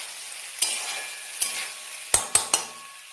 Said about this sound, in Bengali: এই যে আলু চচ্চড়ি বসিয়েছি